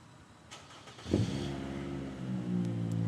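A wrecked car with no muffler cranks and fires up, its raw, unmuffled exhaust barking loud, then settling into a harsh, throbbing idle with a slight rev near the end.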